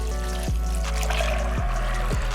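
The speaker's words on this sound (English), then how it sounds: "I'm going to add in 4 cups of water" Four cups of water pour steadily into a pot of softened beans, a continuous close splashing trickle with a few brief clinks, and no one speaking.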